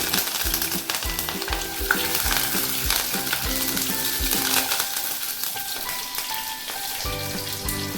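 Curry leaves dropped into hot oil with fenugreek seeds for a Kerala fish curry, a loud, dense, continuous sizzle and crackle up close, with faint stirring scrapes and no talking.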